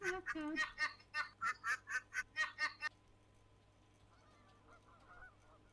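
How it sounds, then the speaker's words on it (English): A run of about eight loud, rhythmic goose honks repeats quickly at close range, then fades into a quiet hissing background. "you just hear lots of goosing, hissing, and laughing like a duck"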